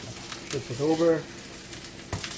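Japanese ginger pork frying in a pan just after being flipped, with sake, cooking wine and mirin added. A soft, steady sizzle runs underneath while a voice talks briefly in the middle.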